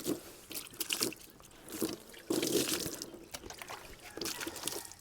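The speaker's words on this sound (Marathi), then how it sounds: "आणि थोडंसं पाणी मारत राहू आपण" Water splashes in several short bursts close by while a chair is washed, with dripping between splashes.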